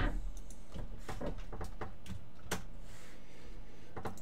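Close computer keyboard typing, quick irregular clicks in short bursts with brief pauses between keystrokes.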